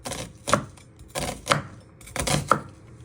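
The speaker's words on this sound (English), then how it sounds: "Then you turn it around and then you just start slicing it." A knife cuts through an onion on a chopping board in three distinct close knocks about a second apart, each with a short crisp slicing edge; no talking.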